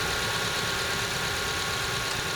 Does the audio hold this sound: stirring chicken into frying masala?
no